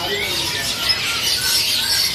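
Cage birds in a shop selling local and imported birds: a dense, continuous wash of high chirps and squawks from many birds blending together at moderate loudness.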